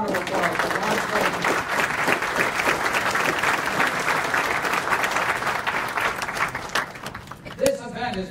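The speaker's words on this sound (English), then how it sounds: "How about a round of applause for Ron Twain?" Audience at a Beaver County community event applauds a former congressman who has just been introduced, a dense, steady round of clapping lasting several seconds, with voices audible in the crowd and the applause thinning toward the end.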